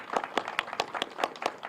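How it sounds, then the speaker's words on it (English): Sparse, uneven hand claps, roughly five per second, sound at modest volume, like a small group briefly applauding at a COVID-19 vaccine clinic event. "it would be good to just give Mark Boughton a round of applause for all his hard work and his efforts."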